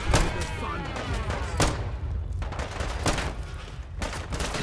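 Heavy gunfire in the video game Fallout London: repeated loud shots and bursts in an irregular rapid rhythm, close and dense, with a few sharper heavy blasts standing out.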